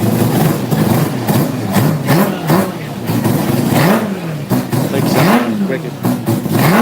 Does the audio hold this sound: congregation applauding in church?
no